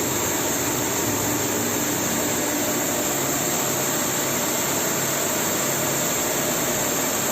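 An emergency fire pump with a mechanical seal runs steadily aboard a ship, feeding the main fire line. Its loud, even machinery roar and broadband hiss hold unbroken and close for the whole stretch, with no voices.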